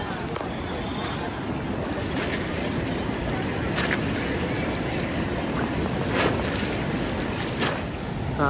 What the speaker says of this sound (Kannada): ಇಲ್ಲಿ ಧುಮುಕುತ್ತಿರುವಂಥ ನೇತ್ರಾವತಿ